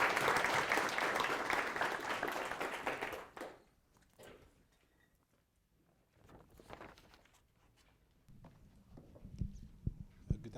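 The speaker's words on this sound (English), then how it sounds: "let's give him applause" Applause from an audience at a global case competition awards ceremony, a full burst of clapping for about three seconds that cuts off abruptly, followed by quiet room noise and scattered footsteps or taps.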